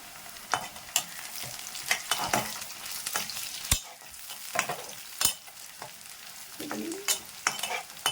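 Onions and green chillies frying in a pan, a soft continuous sizzle punctuated by irregular scraping and clacking stirs of a spatula, fairly close and with no talking.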